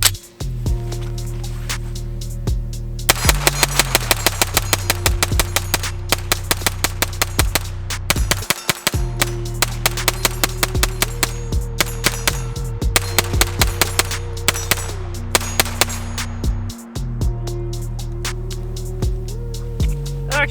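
A Battlearms Xiphos 9P pistol fires rapidly from a 50-round drum magazine, with long strings of sharp, loud shots over a steady hum, broken by two brief pauses.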